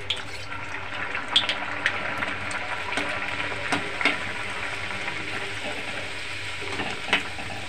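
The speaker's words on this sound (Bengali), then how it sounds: "তেলটা গরম হয়ে গেছে, তেলের মধ্যে ছেড়ে দেব লুচিটাকে।" Green pea kachori (koraishutir kochuri) frying in hot oil gives a steady close sizzle with scattered sharp crackles and pops throughout, and no voices.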